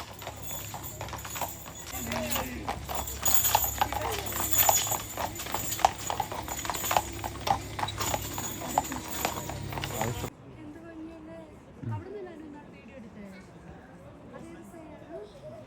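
Large horses pulling a carriage clop in a steady rhythm on pavement in Germany, with wheels rumbling and people talking, then the sound drops to quieter ambience.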